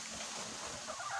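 Backyard chickens clucking softly and steadily for a moment over a constant hiss of background noise.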